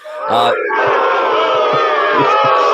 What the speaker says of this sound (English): This crowd is out of control here.